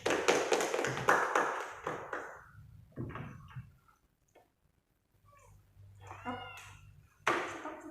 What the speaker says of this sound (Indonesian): Tepuk tangannya untuk Khadijah.